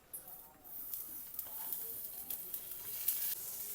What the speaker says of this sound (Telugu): సో ఇప్పుడు బటర్ వేసేద్దాం మనం కొంచెం.